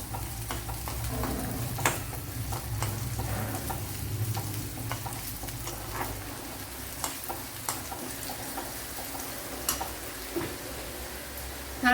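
Steady frying and sizzling of coconut pieces in oil fills the clip, with scattered ticks and scrapes of stirring over a low hum; no voices.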